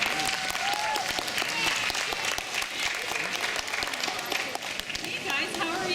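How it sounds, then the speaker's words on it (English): A crowd claps in sustained, dense applause throughout, steady and fairly loud, with some voices mixed in. "So please give a warm round of applause to Honorable Rochelle Squires"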